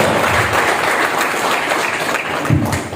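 Loud, dense clapping from about thirty participants at an ice-breaking session of a trainers' workshop, a continuous close patter of many hands sustained throughout.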